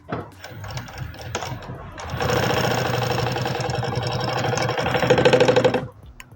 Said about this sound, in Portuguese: Vou colocar o meu forro, também direito por direito, direito com direito, aqui em cima e vou passar uma costura